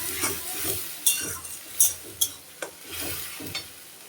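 Fish curry of shankar (stingray) cooking in a pan, sizzling softly while a spoon stirs in spice paste and half a spoon of home-made cumin powder, with scattered clinks of the utensil against the pan and no talk.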